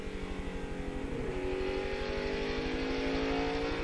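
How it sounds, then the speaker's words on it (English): NASCAR Busch Series stock cars race at IRP in the 2002 Kroger 200, a close, loud, continuous engine roar whose rising pitch shows cars accelerating and passing. "And Riggs he keeps trying in that 10 car to get by Biffle."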